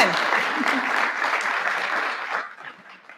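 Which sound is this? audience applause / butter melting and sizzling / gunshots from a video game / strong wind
audience applause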